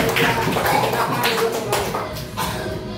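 Scattered applause from a classroom group during a practice session, a few seconds of uneven hand claps with voices mixed in underneath.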